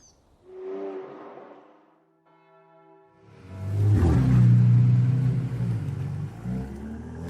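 Bentley cars at a driving event rumble by. A softer engine note comes first, then a steady tonal hum, and then a loud, deep engine surge builds and holds close up.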